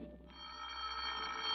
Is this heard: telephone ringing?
yes